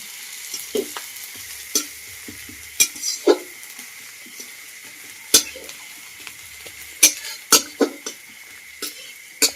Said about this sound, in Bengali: পেঁয়াজটাকে ভালো করে নেড়ে নেবো